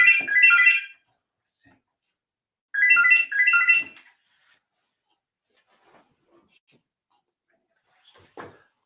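A phone rings during a live-streamed talk show, two bursts of bright electronic warbling near the start and again around three seconds, then near silence with a faint click at the end.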